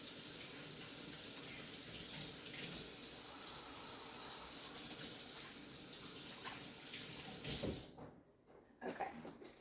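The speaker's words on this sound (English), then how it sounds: "I'll wash my hands one more time." A kitchen tap runs steadily with a full, rushing hiss while hands are washed under it, close by and continuous before cutting off near the end with a few splashes.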